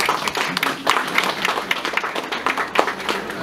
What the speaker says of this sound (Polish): pana wiceprezydenta, pana Pawła Sujka, wielkie brawa.